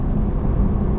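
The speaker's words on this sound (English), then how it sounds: "It does have rev matching on the downshifts." A Lexus LC 500 convertible V8 gives a brief, loud, deep engine roar during a rev-matched downshift.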